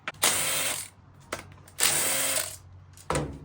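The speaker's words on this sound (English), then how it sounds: "you have to remove these two bolts out of the stator housing" Power tool or impact driver backing 8mm bolts out of a Honda CRF110 stator housing: three loud close bursts of whirring, each trailing off, with a short click between them.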